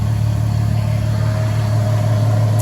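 A VW MK4 GTI engine idles steadily after a coolant refresh with upgraded aluminum parts, a close, even low hum with a faint whine above it, unchanging throughout.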